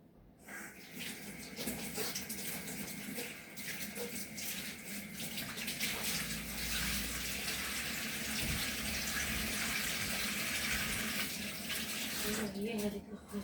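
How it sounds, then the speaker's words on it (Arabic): Water runs steadily from a tap for over ten seconds, a close, continuous rushing splash with a voice talking faintly in the background. "يطيح لي هنا الماء، نخاف نسرق الزيت"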